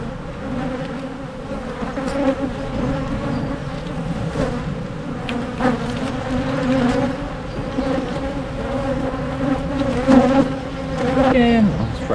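Honeybees buzz steadily and close during a beehive inspection, a dense continuous drone with wavering pitch that holds throughout, with occasional faint handling sounds mixed in.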